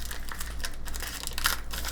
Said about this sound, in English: You can peel back the paper